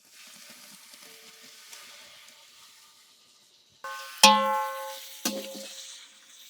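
Tomatoes tossed into sizzling onions for a large batch of chicken biryani: after a quiet, low crackle, a loud hiss bursts up near at hand, then a second sharp sizzle surge follows and both trail off into steady frying.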